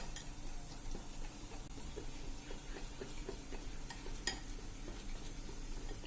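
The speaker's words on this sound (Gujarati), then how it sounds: "હવે એમાં આપણે આ ઈનો 1 પેકેટ નાખી દેશું અને એને આપણે એકદમ સરસ મિક્સ કરી લેશું, ફેટી લેશું" A spoon or whisk beats khaman (gram flour) batter right after Eno fruit salt is stirred in, giving a steady run of quick, soft tapping and scraping strokes against the bowl, close up, with no talking.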